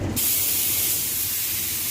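A paint spray gun gives off a steady, loud, close hiss of atomized spray. It starts abruptly after a brief moment and runs continuously with no talk.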